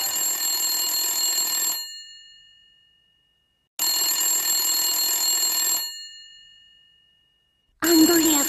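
A telephone rings out unanswered in two long, loud, even bursts separated by silence, and a third ring begins at the end.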